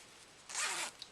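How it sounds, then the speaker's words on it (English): A zipper on a small fabric pouch is pulled shut in a single quick, bright zip, close and fairly quiet, alone against a soft background hush. "I'm going to zip it up"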